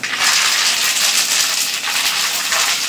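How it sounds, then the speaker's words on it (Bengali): Curry leaves fry and spatter loudly in hot oil as chira (flattened rice) is prepared, a dense, continuous crackling hiss with no voices. "কারি পাতা এমনিতে তেলের উপর দিলে কিন্তু ছিটকায়"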